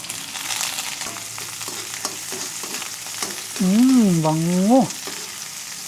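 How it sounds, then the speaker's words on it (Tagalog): Garlic, ginger and onion sizzle in hot oil in a pan, a steady frying hiss throughout, with a sung, wavering voice briefly heard over it toward the end. "Magigisa na po tayo mga paps. May mantika na po tayo sa ating kawali."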